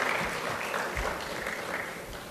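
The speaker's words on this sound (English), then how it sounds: "Can we have a round of applause for him," An audience at a cinema trade expo claps in a sustained, fairly faint patter of applause heard from within the hall, dense and even throughout.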